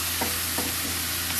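Ampalaya (bitter gourd) being stirred in a hot pan with sautéed aromatics, tomatoes and egg: a few quick scraping spatula strokes over a steady close sizzle.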